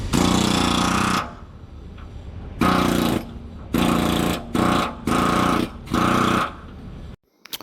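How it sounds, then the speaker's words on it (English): An air hammer knocks out excavator bucket teeth in loud, close bursts of rapid pounding, one long run, a pause, then several shorter bursts separated by brief gaps. "when you're using the air hammer on the teeth on the inside like I am right now"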